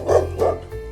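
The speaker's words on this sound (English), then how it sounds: "Spot on. It's a dog." A dog gives two short barks close by, followed by a softer whimpering note, with nothing else heard around it.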